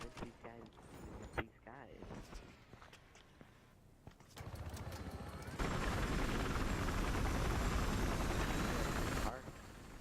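In the video game Battlefield Hardline, a helicopter's rotor and engine drone builds up loud and steady, preceded by scattered gunfire and footsteps, while players talk over the action.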